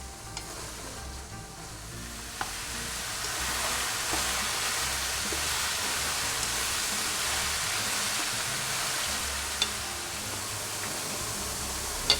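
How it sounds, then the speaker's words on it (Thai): Mushrooms stir-fried with a little salt over high heat sizzle steadily and close, with occasional sharp clicks of a utensil against the pan throughout. "โรยเกลือเล็กน้อย ผัดไฟแดงครับ"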